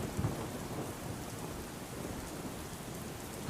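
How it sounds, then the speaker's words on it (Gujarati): Heavy downpour over a district in Gujarat, a dense, steady hiss of rain pouring down without pause, with a brief louder burst at the very end. "અરવલ્લી જિલ્લામાં વહેલી સવારથી જે ધોધમાર વરસાદ વરસી રહ્યો છે"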